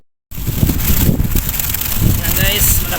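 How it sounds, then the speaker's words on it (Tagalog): Strong wind buffets the microphone at the seaside during solo night fishing in Abu Dhabi, a loud, continuous roar with gusty rumble beginning abruptly after a brief silence, and no speech over it. "malakas ang hangin guys"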